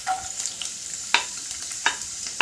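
Chopped garlic fries in a pan for chilli chicken, a steady bright sizzle broken by a few sharp scraping stirs of a utensil, close and alone.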